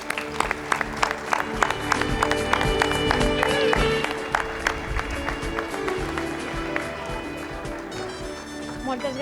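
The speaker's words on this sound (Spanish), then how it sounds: "un fort aplaudiment per a ells" Crowd applause fills the hall at a festive evening presentation of the 2027 reign for the Balls del Jesús in Biar, with music and voices carrying over the steady clapping throughout.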